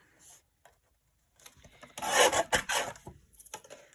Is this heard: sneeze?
no